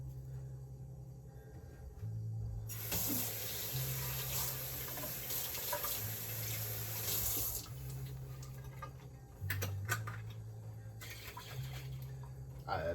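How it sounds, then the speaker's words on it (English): Tap water runs into an old jar, a steady rushing splash lasting most of the clip with brief pauses, while a low hum sits underneath. "I put some water in the old jar to get off"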